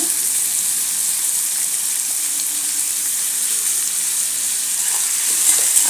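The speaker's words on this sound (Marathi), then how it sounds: "आपण या कांद्याला परतून घ्यायचं आहे" Onion with curry leaves sautéing in a pan for a quick tomato bhaji, a steady, even sizzle and hiss of frying that holds at a constant level throughout, with no voices over it.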